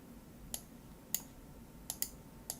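Quiet, crisp computer mouse clicks, about six of them spaced irregularly, including a quick double click, over faint room hiss with no voices.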